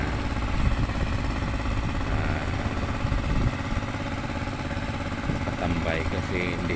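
A motor pump engine runs steadily to drain water from a box culvert at a roadside construction site, a continuous mid-pitched drone with people talking over it.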